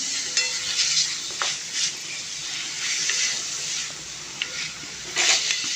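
Bitter gourd frying in oil in a pan while being stirred, a steady close hiss and sizzle with occasional scrapes and small clatters, no voices.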